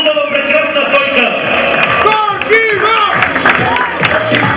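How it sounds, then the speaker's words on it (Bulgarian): Guests at a Valentine's Day marriage proposal applaud the couple with a steady, loud crowd clapping that fills the whole stretch, mixed with cheering and a voice speaking over it. "Аплодисменти за тази хубава, прекрасна двойка!"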